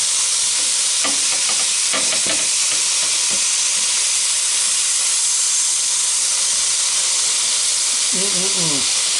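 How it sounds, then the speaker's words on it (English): A steady, loud hiss of double cheeseburger patties sizzling on a Ninja Foodi indoor grill, with a few clanks and scrapes of a spatula and a brief voice near the end. "Now I just wanted y'all to see down in here for a minute and listen to that sizzle."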